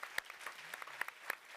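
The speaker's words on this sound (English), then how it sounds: "I want to give you a round of applause." Faint applause from an audience at a company event day, a light spread of distant claps with a few sharper hits standing out over a low room murmur.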